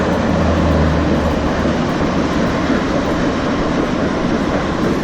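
A train rumbling past close by in Valencia, Spain, a loud continuous low roar with a steady hum and no speech.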